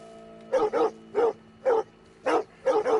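A dog in the Red Dead Redemption 2 video game barks repeatedly and loudly, six close barks arriving singly and in quick pairs with short gaps.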